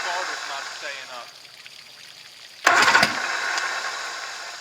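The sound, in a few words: outboard boat motor starter cranking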